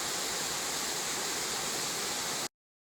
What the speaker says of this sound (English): I reckon that is the top of the falls.